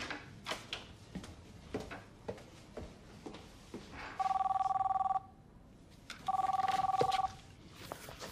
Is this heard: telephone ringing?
yes